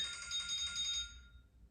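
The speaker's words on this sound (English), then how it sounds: "that's my other phone ringing" A phone rings in a home, a brief electronic trill that fades out after about a second, moderately faint and alone.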